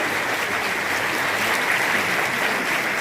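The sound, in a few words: audience applause welcoming a vocalist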